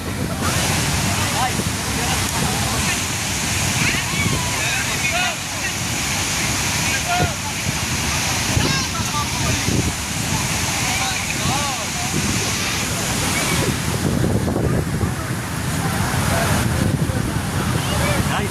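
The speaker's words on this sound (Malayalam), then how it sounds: "അതിരപ്പള്ളി കാറ്റാണ്, മഴയാണ്" Athirapilly waterfall roars in a steady, loud broadband rush mixed with gusting wind buffeting the microphone and rain, a continuous wash of water noise with no breaks.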